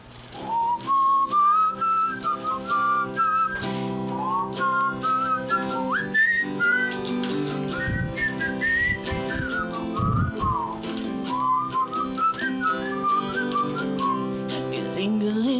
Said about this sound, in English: we're whistle harmonizing here.